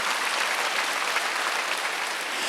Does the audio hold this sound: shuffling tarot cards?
no